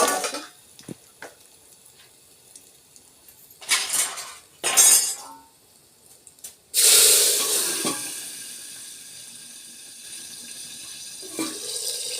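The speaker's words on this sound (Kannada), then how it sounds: "ಈಗ ಸಾರು ಪಾನಿ ಹಾಕ್ತೀನಿ" Broth water poured into a hot cooking pot of boiled lentils, giving two short splashing bursts followed by a loud hissing sizzle that slowly dies away, close up and without talk.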